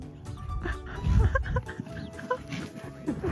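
Chicken clucking at close range in a barnyard while facing a cow, short irregular clucks over a busy farm background with other animal noises.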